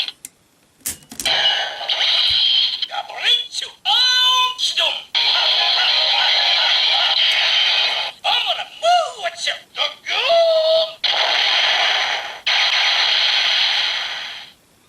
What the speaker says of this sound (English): sounding like he's smashing something with the hammer and then explosions